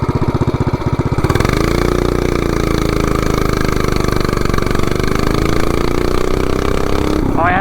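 A mini bike with a 420cc engine revs hard from a standstill, its loud engine note climbing steadily and holding a high, strained drone as it accelerates, close by, with a brief rattle near the end.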